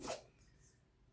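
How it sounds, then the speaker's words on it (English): A dog gives one short, sharp sneeze at close range, followed by a quiet room tone. "My doggy is sneezing."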